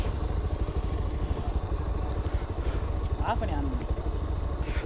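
A Pulsar 220F motorcycle engine runs steadily on an off-road ride with its engine warning light on, giving a continuous low, pulsing rumble that stays loud and close throughout.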